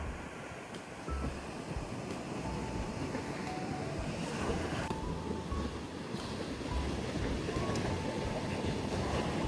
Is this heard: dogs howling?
no